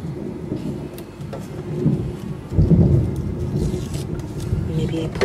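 Thunder from an approaching rainstorm rolls low and distant, swelling into a louder rumble midway, with steady rain noise and a voice talking over it.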